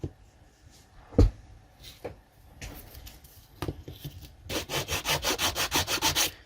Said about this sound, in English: You don't want to sand this away too much.